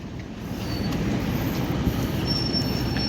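A train rolls slowly and heavily into Yogyakarta station, Indonesia, its wheels rumbling with a thin squeal of metal on rail, close and steady.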